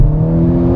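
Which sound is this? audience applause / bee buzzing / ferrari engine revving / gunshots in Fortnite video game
ferrari engine revving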